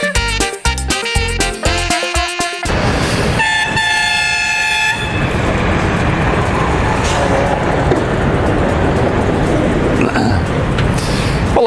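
Loud horn honks at the start, a train horn-like sustained tone mid-clip, then steady rumbling noise of rail traffic, close and dominant.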